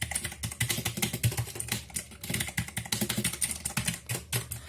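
Fast, continuous clicky typing on a Cosmic Byte CB-GK-03 mechanical gaming keyboard with an aluminium body, dense rapid keystrokes heard close up with no talking.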